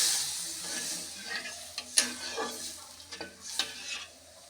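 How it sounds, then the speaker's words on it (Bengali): Coconut milk goes into a sizzling pan of prawn malai curry, starting with a bright burst of hiss that settles into softer bubbling sizzle with a few stirring clicks and pan knocks. "এখন দিয়ে দেব নারকেলের দুধ।"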